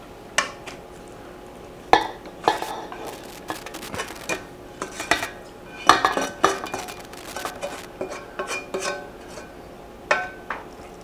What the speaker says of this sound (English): Now, with that, we're going to add our vegetables